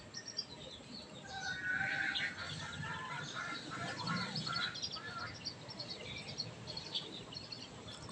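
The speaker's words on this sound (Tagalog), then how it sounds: "Kumakain na ang mga manok." Chickens feeding outdoors, one of them tethered, with soft clucks and scattered bird calls over a busy background of pecking and rustling, fairly near and steady throughout.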